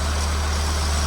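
A modified Stage 1 998 Mini engine idles steadily after tuning, giving a smooth, low, continuous rumble close to the microphone with no talk.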